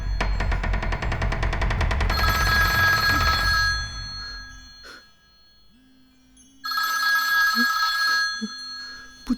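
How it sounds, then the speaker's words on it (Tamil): A telephone rings loudly in a movie scene, a rapid mechanical bell trill mixed at first with heavy rattling noise, stopping, then ringing again after a quiet gap with small knocks. "ஃபோன் சவுண்ட் கேட்குது."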